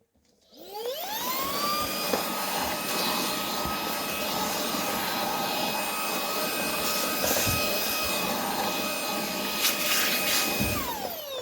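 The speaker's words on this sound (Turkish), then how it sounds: "yine burayı süpürgeyle" A vacuum cleaner starts up and runs loud and steady at close range while cleaning inside a tumble dryer that leaves clothes damp, then winds down at the end, with no talking.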